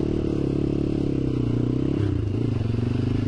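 Dirt bike engine revving in second gear as the rider lifts into a wheelie, a loud buzzing motor that shifts pitch and bogs slightly midway, with faint clatter and no talk.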